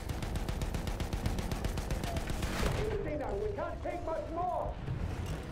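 Rapid gunfire in a Battlefield 1 match, a dense run of repeated shots aimed at a tank for about three seconds, then fading behind tonal chirping game sounds, loud and close.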